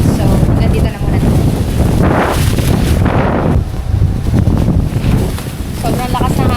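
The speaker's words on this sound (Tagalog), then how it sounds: "Sobrang lakas ng hangin guys." Strong stormy wind blows at Ngong Ping village in Hong Kong, roaring and buffeting the microphone loudly and continuously throughout, with gusts surging and easing.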